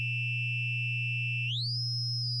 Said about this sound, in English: if we just sent like a sine wave through it